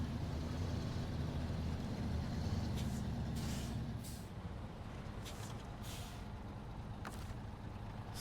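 A heavy truck engine in the off-road driving game SnowRunner starts up and runs, with a loud low rumble that eases, then intermittent hissy bursts like air brakes, mostly alone with no talk.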